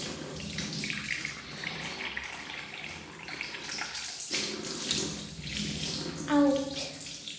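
Tap water runs steadily while something is washed outdoors, with a continuous splashing hiss and a brief gurgle near the end.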